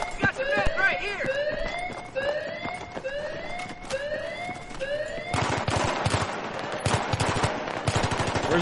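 Rapid automatic gunfire rattles in loud, dense bursts during a Battlefield 3 match, joined by wailing siren-like tones, with voices talking over the shooting.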